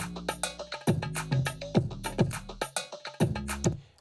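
A kick drum and bass are layered under sampled percussive hits in a music production, forming a punchy, rhythmic beat with regular thumping low notes and no voices.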